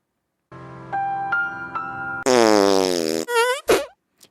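Comedic fart sound effect: a series of buzzy, tonal blasts, the first stuttering with several pops, then a louder rising-pitched squeal and two short sputtering bursts, close and isolated with no talk.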